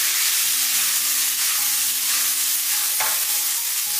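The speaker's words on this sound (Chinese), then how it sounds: "把豆角给倒入锅中，然后给它翻炒均匀" Green beans with shredded ginger stir-fry in a hot wok, giving a loud, dense, continuous sizzle with a brief louder burst near the end.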